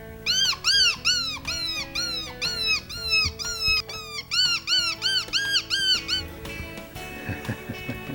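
A Pipsqueak predator call gives a rapid series of high, rising-and-falling squeaks in close, repeated bursts with brief pauses, then stops as faint softer sounds follow, tested on house cats.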